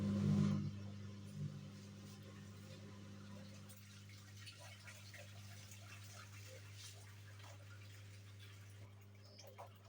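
Water draining out of a twin tub top load washing machine, a faint steady trickle and drip over the machine's low motor hum, with a louder clunk at the start.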